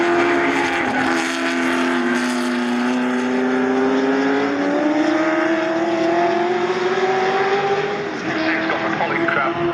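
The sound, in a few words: Ford GT40 race cars racing at Silverstone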